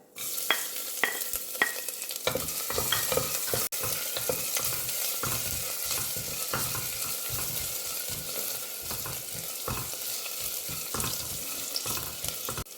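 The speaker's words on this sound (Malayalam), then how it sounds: "ഈ മസാല എല്ലാം മൂത്ത് കഴിയുമ്പോൾ നമുക്ക് ചതച്ച് വെച്ചേക്കുന്ന ഇഞ്ചിയും വെളുത്തുള്ളി ഇട്ട് കൊടുക്കാം" Masala frying with crushed ginger and garlic for a jackfruit curry, a loud continuous sizzle close by, broken by frequent rhythmic scrapes and knocks of a spoon stirring in the pan.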